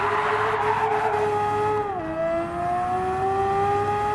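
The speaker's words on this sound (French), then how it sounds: "J'ai envie de faire du drift." Car engine in the Gran Turismo 7 video game, a steady loud drone with strong harmonics that dips briefly as the revs drop during a drift, then holds on at a lower pitch without any talk.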